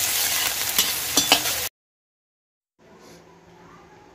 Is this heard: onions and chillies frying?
yes